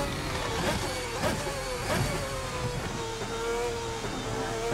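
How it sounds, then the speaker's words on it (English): RSS GT race cars in Assetto Corsa, a racing game, at Sarthe / Le Mans, give a continuous engine drone with revving rises and falls, moderately loud and steady across the stretch, without voices. "Cars are looking and sounding great."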